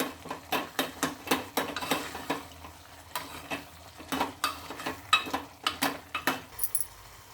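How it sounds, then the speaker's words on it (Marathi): A spoon stirs tomato curry in a pan, knocking and scraping in a steady, repeated rhythm of close, distinct strokes with soft sizzling underneath. "छान असं फिरवावं लागते."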